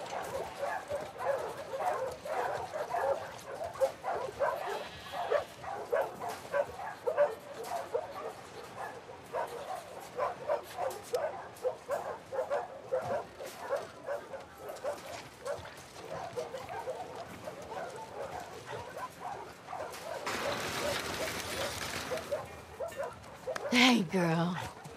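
A dog in the video game The Last of Us Part II, Seattle Day 1, barks, yips and whimpers in repeated excited bursts close by, with character voices talking over much of it.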